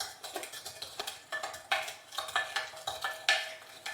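A whisk or spoon stirs dry ingredients with cold 3.8% milk in a bowl for a Swedish almond cake, repeated close scraping and clinking strokes in a steady rhythm with no talking.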